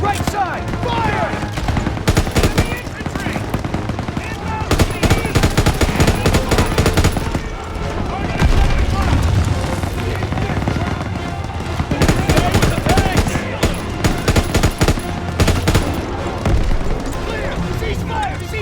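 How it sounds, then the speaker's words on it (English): In the video game Call of Duty WW2, machine gun fire is aimed at an MG-42 nest in long, loud, rapid bursts with short pauses, mixed with battlefield booms and shouting voices. "Gunner, target that MG-42 nest, right side! Fire!"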